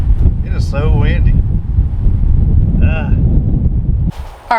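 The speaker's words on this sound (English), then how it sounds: "It is so windy." Strong wind roars steadily across a home building site, a loud, constant buffeting that nearly fills the clip, with a person speaking briefly over it and a short lull near the end.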